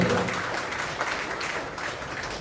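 Applause from the gathered party members at a Liberty Korea Party North Chungcheong provincial chapter appointment ceremony, a steady broadband clapping wash that holds at an even level for a couple of seconds with no talk over it.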